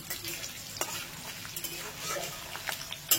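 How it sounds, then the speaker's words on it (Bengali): Hot oil sizzles steadily in a pan as chopped garlic and chili fry, with a utensil stirring and scraping now and then, close and fairly quiet. "আর কয়েকটা রসুন কুচি দিয়ে দিলাম। চটপটা হবে, চটপটা। এবার এটাকে একটু ভেজে নেব।"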